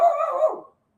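A dog gives a single short bark that trails into a brief whine, heard close and alone before sudden silence.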